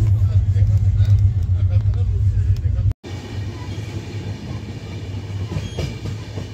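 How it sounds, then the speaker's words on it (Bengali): A passenger train on an overnight trip from West Bengal to Mumbai rumbles steadily with a low, continuous drone and faint rattling. A brief break comes partway through, and murmured voices sit under the noise. "এইবার ট্রেন ছাড়লো বলে"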